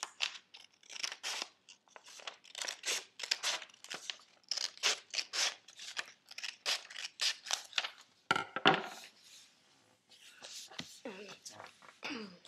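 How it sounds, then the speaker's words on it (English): Scissors repeatedly snip paper while trimming a sheet for an origami crane, crisp rhythmic cuts close to the microphone, followed by a brief paper tear and crinkling near the end. "you're going to cut off that part, obviously with scissors"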